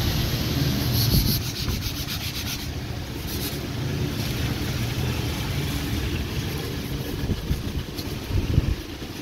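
Steady abrasive rubbing of sandpaper on a mountain bike part before installation, continuous and close, with a few louder scrapes toward the end.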